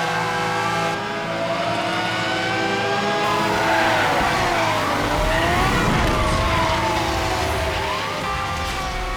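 A Lamborghini Murcielago engine in Need for Speed Hot Pursuit Remastered, a loud sustained drone that rises and falls through gear changes, layered with wailing police sirens throughout.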